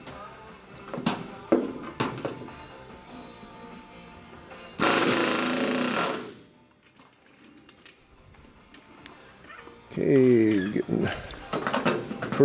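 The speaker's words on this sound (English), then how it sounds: "First doubler riveted and bonded in place." A pneumatic rivet gun fires in sharp bursts riveting a doubler on a bird-strike-damaged Grumman aircraft wing, with a long hissing blast of air and a rattling hammering run later, amid scattered clanks.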